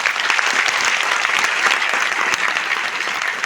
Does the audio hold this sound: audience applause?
yes